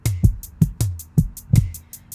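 A flex-edited beat made in Logic Pro X, with punchy low kick hits in an uneven counter rhythm against crisp hi-hat ticks, alone and close.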